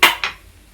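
Chickpeas are tipped from a spoon into a heated pan, giving two quick close metallic clinks in rapid succession that fade into near silence.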